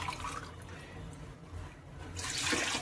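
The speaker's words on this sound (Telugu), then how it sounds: "ఈ గ్లాస్తోని 4 గ్లాసులు వాటర్ వేసుకుంటున్నానండి." Water poured from a glass into a cooking pot, four glassfuls measured out for a broken-rice flour dish; a steady close splashing pour that swells louder toward the end, with no talk.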